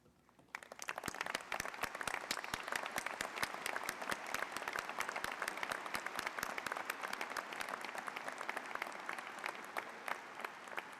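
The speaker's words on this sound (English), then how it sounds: "join me by honoring them with your applause" Sustained applause from a large commencement audience honoring the standing faculty, a dense, steady wash of many hands clapping that swells quickly and holds for about ten seconds.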